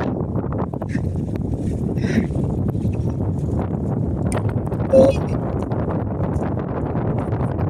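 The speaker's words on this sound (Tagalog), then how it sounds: "Malakas yung hangin dito kasi lang, nasa gitna." Strong wind on a seashore buffets the microphone in a continuous low roar, with faint voices and occasional knocks underneath.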